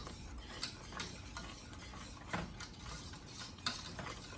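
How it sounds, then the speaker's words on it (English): A whisk scraping and stirring flour gravy with beef broth and water in a pan, steady rhythmic swishing with occasional sharper clinks against the pan, faint and close, with no talking. "Keep whisking it, keep whisking it."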